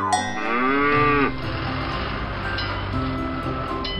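A cartoon cow lets out one loud, drawn-out moo in a farm-vehicle cartoon for children, followed by a steady tonal background sound.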